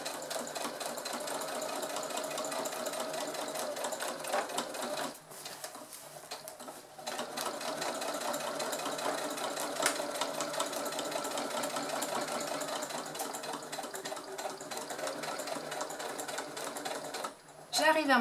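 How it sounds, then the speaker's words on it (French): A sewing machine stitching fabric for a zippered bucket bag, a fast, steady whirring run close by, pausing briefly midway and near the end. "Et maintenant, je vais coudre"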